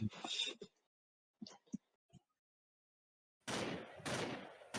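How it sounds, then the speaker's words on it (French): Video game gunfire plays as bursts of rapid, automatic-sounding shots. There are short scattered pops near the start, then a dense sustained volley toward the end, fairly close and loud with no talk over it. "Wow, c'est qui tire là?"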